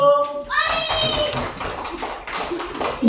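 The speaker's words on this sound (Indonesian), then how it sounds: "tepuk tangan dulu" A class of second-grade children claps hands together, a burst of brisk overlapping claps that starts after a brief pause and carries on steadily, with a voice rising over the clapping.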